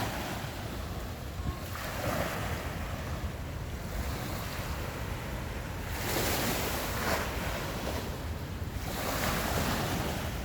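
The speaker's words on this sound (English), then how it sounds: "That water is moving." Floodwater in the river at the South Hadley boat launch during the 2023 flood, a steady loud roar of rushing water mixed with wind buffeting the microphone, continuous with no talk.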